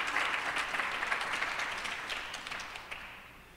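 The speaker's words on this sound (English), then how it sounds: "maybe we can hold our applause" Conference audience at a design event applauding, a crowd's clapping that starts full and gradually thins and fades out, with no talking over it.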